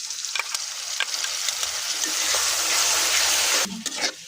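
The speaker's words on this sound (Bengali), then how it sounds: "এই তো পেঁয়াজ দিয়ে দিলাম। নরম হয়ে যাচ্ছে। এখন এখানে মশলা, সব ধরনের মশলা, মাংসের মশলা দিয়ে দিলাম।" Onion frying in a pan with meat spices gives a loud, continuous, close sizzle with a few light utensil taps, and the sound drops off near the end.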